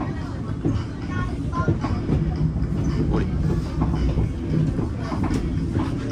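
A train in China rumbles steadily along the track with a rhythmic clickety-clack and a constant low rattle, heard from inside the carriage.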